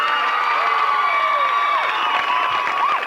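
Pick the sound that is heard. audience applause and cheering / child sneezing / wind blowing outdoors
audience applause and cheering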